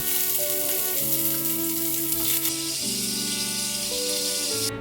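Shrimp frying in melted butter in a pan give a continuous sizzle and hiss, heard under steady background music with sustained tones.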